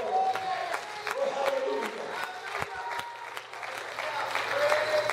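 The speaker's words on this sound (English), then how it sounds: "Would you clap your hands for the Lord?" A church congregation claps along in a steady rhythm during a sermon, with voices and cheering mixed in beneath the handclaps.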